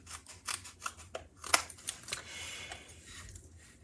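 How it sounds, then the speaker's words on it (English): Scissors snip through a dimensional adhesive pad, cutting it into skinny strips for a stamped card: a quick run of sharp, close clicks and crunches, then quieter trailing snips. "I'm going to take my scissors and I'm going to cut this in strips to start"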